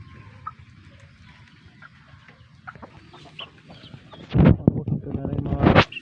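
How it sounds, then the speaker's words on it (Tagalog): Chickens on a backyard farm cluck and a large rooster calls close by, rising to loud bursts of fowl noise near the end, with someone talking quietly beneath the early part. "malaking manok din to"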